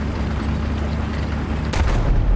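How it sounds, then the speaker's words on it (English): A tank cannon fires in a tank combat video game: one sharp, heavy boom breaks out of a steady engine rumble, and its low roar carries on afterwards. "Shoots his cannon, shoots his gun."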